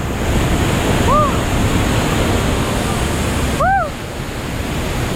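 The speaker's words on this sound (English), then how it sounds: "We got in the water and we wanted to get under the waterfall." A tropical waterfall in Malaysia roars with a steady, loud rush of falling water. A couple of brief whooping shouts rise above it.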